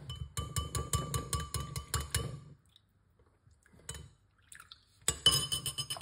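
Lemon juice trickles and clinks against a glass in short bursts, broken by a quiet pause before more pouring and glassy chinks, close and fairly clear.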